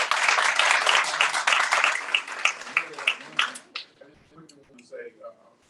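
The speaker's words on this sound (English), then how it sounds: "Let's give her a round of applause." Audience applause at a roundtable event, a dense burst of clapping that thins into scattered claps and fades out, followed by faint talking.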